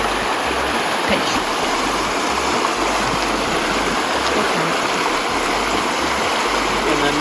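A mountain stream on the Appalachian Trail rushes steadily at a campsite, a loud, continuous broadband wash of flowing water that does not let up.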